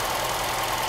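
A Mercedes-Benz W123 230E with mechanical fuel injection idles in a steady, even drone, close and continuous with no voices over it.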